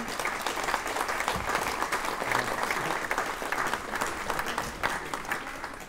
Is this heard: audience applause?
yes